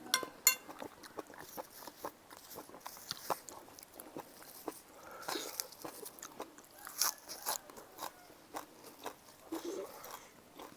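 Someone eating a Vietnamese-style dish of pork blood and offal: close, quiet chewing with scattered crunchy bites and small wet sounds, irregular throughout.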